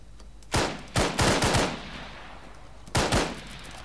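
Video game gunfire plays with loud, close bursts, first one shot, then a quick cluster of four or five, then a short pause and a final pair of shots, with no voices.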